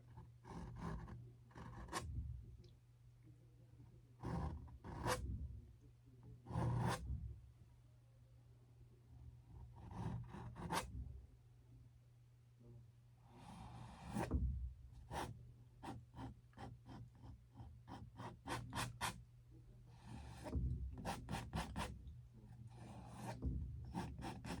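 A dry brush scrapes paint off a painting in repeated short rasping strokes, close and fairly quiet over a steady low hum, with pauses between bursts.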